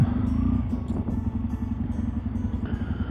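A motorcycle ridden on roads near Sillery and Puisieulx, its engine a steady close rumble with rhythmic pulsing and wind noise throughout, no voices.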